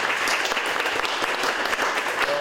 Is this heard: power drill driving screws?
no